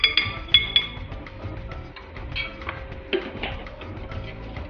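Cornflour being mixed into yogurt in a bowl, with light clinks and soft scraping of a spoon against the bowl, a few sharper taps at the start followed by steady low stirring.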